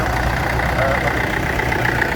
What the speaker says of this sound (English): we've got a Massey Ferguson 65 here, but it's doing a little bit of work now